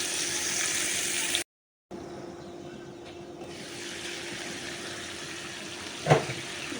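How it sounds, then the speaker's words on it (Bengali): Chicken fries gently in a little oil with ghee, making a steady quiet sizzle that drops out briefly, then resumes with a soft clatter near the end. "অল্প তেলে ভাজতেছি এগুলো আমি আর এদিকে আমি একটু ঘিও দিয়ে দিব এটার মধ্যে"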